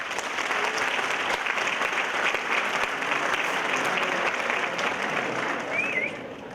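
A comedy gala audience breaks into sustained, dense applause that holds steady and loud for several seconds before easing slightly at the end, with no talking over it.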